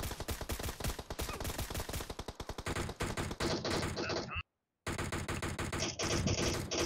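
M4 rifle gunfire in a video game rattles in rapid, loud automatic bursts with a brief silent gap before firing resumes, nearly continuous and close.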